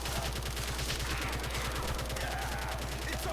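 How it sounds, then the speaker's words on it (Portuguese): Rapid automatic gunfire in a Call of Duty custom zombies map, a dense continuous burst of fast repeating shots, loud and unbroken throughout. "Começar a atirar."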